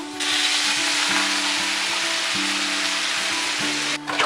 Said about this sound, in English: we're going to be frying with lard today